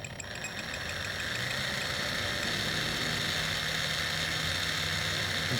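An RC car ball differential whirs steadily during break-in with one side locked, giving a continuous close mechanical drone with a faint high motor whine and light rattling throughout.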